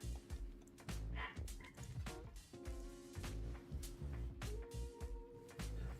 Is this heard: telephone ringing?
no